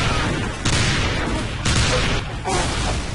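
Sustained minigun fire in the video game Team Fortress 2, a continuous roaring barrage with brief breaks, loud and close throughout.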